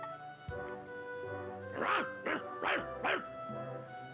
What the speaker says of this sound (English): a vicious dog.